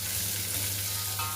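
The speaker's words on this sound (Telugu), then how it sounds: "ఆనియన్స్ అనేది కొంచెం గోల్డెన్ కలర్ వచ్చేంత వరకు వేయించుకోవాలండి." Steady, close sizzle of onions frying in oil in a pan with fenugreek leaves, a dense continuous crackle with a low hum underneath and no voices.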